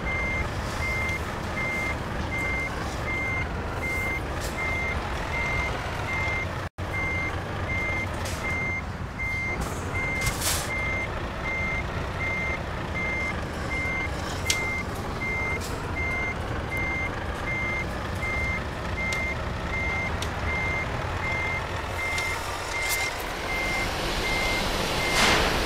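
Steady reversing beeps from a truck backing into a spot in a truck-driving video game, repeating throughout over a continuous engine drone, with no talking.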